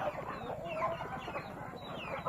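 A hen that has not yet begun laying gives soft, broken clucks close by over a quiet farmyard background, the short murmuring calls coming in an uneven run without any talking.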